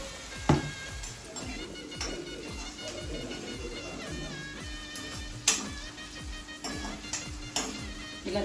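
Banana pieces with rock salt fry in a pan, a steady sizzle running throughout with repeated soft scraping and stirring strokes and a few sharper clinks of utensil on metal.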